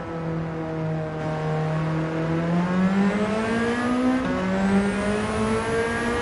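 Stock Nissan Silvia S13 engine on a medium turbo in Gran Turismo 7, a steady droning exhaust tone that holds, then climbs in pitch as the car accelerates, with clear harmonic whine and no talk.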